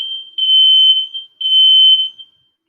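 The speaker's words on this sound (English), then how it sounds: "fire alarm. I have to stop this." Smoke or fire alarm sounding indoors: two long, loud, piercing electronic beeps, each about a second long, with a short gap between them and no voices.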